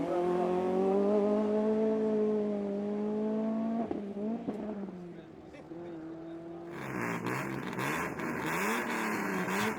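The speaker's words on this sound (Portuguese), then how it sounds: "Aquecimento de pneus, a tentar ao máximo ficar aqui com os pneus na temperatura." A BMW 305i race car warms its tyres before a hill climb at the Rampa da Falperra, its engine droning steadily at first. After a brief lull, harsher revving with squealing tyres takes over, up close and loud.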